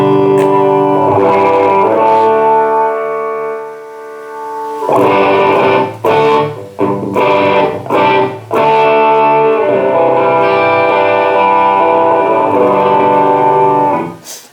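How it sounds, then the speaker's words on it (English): Electric guitar played through a Tube Screamer overdrive model on a Headrush unit: sustained distorted chords ring out, then a burst of choppy strummed hits and a return to long held chords, loud and alone. "Let's try to put a little overdrive. Let's go for the Tube Screamer."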